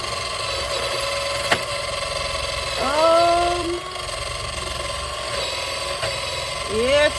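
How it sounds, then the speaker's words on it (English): A Let's Resin electric sander grinds down cured resin, whirring steadily with shifting tonal whines as its pitch drops and rises under load, close and continuous, with a sharp click early on. "oh yeah, it's grinding it down."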